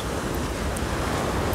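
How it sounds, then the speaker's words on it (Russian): Steady north-east wind blowing along the Black Sea coast at Golubitskaya, a constant broadband rush with gusty buffeting on the microphone, loud and close, no voices. "А вот сейчас северный задувает"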